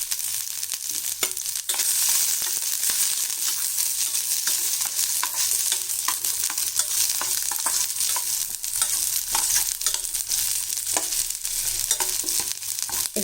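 Chopped onion and garlic sauté in oil in a pan, giving a dense, continuous sizzle with scraping stirs, close and loud, with no talking.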